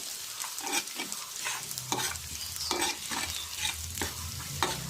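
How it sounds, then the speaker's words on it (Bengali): Dried red chilies fry in a pan while being stirred, giving a continuous soft sizzle broken by repeated scraping strokes, fairly close and steady with no talking. "শুকনো মরিচ দিয়ে দিলাম। এটা আমি ভালোভাবে হালকা করে ভেজে নিব।"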